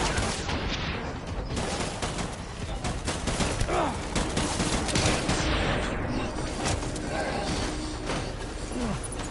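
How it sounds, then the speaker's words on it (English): A continuous clatter of gunfire from the video game Death Stranding keeps going throughout, mixed with scattered louder shots and some voices. "Yeah, you better start shooting."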